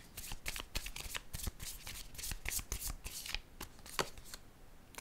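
Tarot cards are riffled and shuffled by hand in quick, crisp bursts of flapping clicks, close and clear, with no talk over them.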